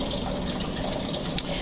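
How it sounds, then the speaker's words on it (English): Water trickles and runs steadily and quietly into a woodshop beneath a wall, a soft continuous flow with one brief drip or splash near the end. "You can hear the water running in from under the."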